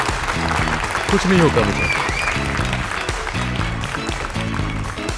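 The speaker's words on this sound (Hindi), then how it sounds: "अब तालियां हो जाएं हमारे आखिरी प्रतियोगी इदरीस के लिए।" Audience applause for the last contestant, Idris, at a singing competition, a steady wash of clapping carrying through under a backing music beat with a voice speaking over it.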